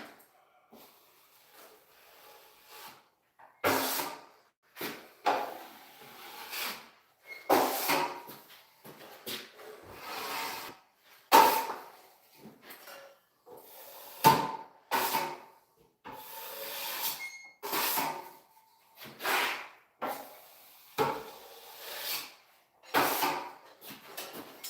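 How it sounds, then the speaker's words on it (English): A drywall trowel scrapes and spreads joint compound over a taped drywall joint in a series of short, close swishing strokes separated by brief pauses. "when I pull my trowel off, I like to pull it off in this part of the joint."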